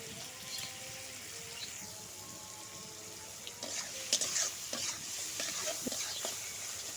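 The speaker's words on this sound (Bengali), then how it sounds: "আমি ভালোভাবে মাছগুলোকে কষিয়ে নেব" Small fish fry with onions in a pan, giving a steady low sizzle with intermittent stirring scrapes and clinks that pick up toward the end, with running water faintly audible.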